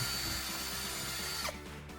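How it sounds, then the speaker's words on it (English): A cordless drill whirs steadily at close range as it drills into wood, its motor tone holding constant before easing slightly near the end. "I continue drilling into the wood surface."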